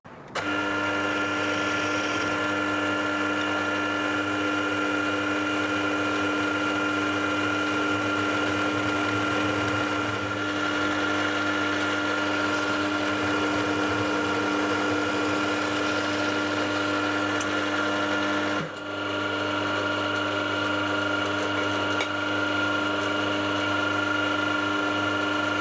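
Steady mechanical whir of a milling machine centre drilling a hole at constant speed, a tonal motor hum with a brief dip partway through, no voices.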